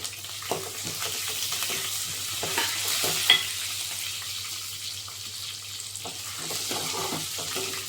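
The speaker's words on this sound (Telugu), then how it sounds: "వెల్లుల్లి కొంచెం వేగిన తర్వాత కరివేపాకు వేసుకోవాలి" Garlic cloves and curry leaves fry in hot oil with mustard seeds and cumin, a close, continuous crackling sizzle broken by repeated scraping and tapping of a spatula in the pan.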